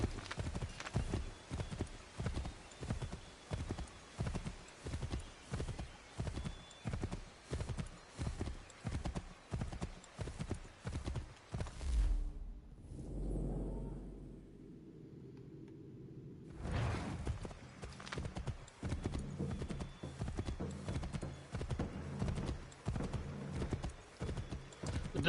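In Assassin's Creed III, a horse's hooves clip-clop in a fast, steady rhythm, broken midway by a brief whoosh and a softer neighing passage before the galloping resumes.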